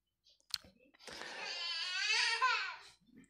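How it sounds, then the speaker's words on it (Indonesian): A child cries in the background, a faint, drawn-out wavering wail that rises and then falls away after a few soft clicks and breaths. "Ada suara-suara sedikit, suara tangisan ya"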